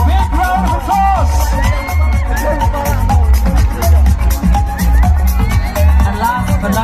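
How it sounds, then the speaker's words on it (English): Audience at the Mr & Mrs Nongstoin College 2024 pageant winners' announcement erupts in loud, sustained applause and cheering, with whoops and shouts over a dense crowd roar that continues throughout, a voice heard talking amid the noise. "Big round of applause."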